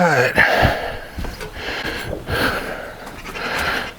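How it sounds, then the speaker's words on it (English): An overweight man breathes heavily while swapping the engine on a rototiller. Labored breaths come close to the microphone in a steady, uneven rhythm. "Sorry for the heavy breathing."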